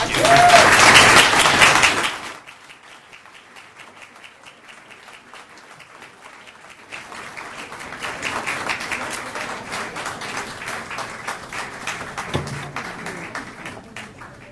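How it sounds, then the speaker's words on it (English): An audience at a debate night on sustainability bursts into loud applause that fades, then a softer, steady round of clapping builds and continues to the end. "as we give our applause"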